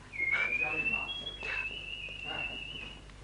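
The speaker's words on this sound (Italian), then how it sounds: "Ti fischio il valzer in giardino." Someone whistles a waltz tune outdoors in a garden, a single clear sustained melodic line with gliding pitch, close and fairly loud, with faint background sounds under it.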